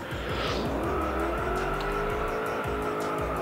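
An Alfa Romeo Montreal race car in Forza Motorsport 4 drives the Maple Valley track. The engine revs and shifts pitch while the tires squeal and skid through the bends, close and continuous.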